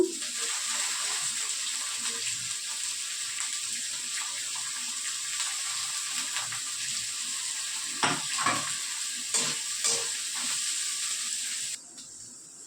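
Cabbage stir-frying in a hot pan for chowmein, a steady loud sizzle with intermittent scraping and tossing clatters, cutting off abruptly near the end.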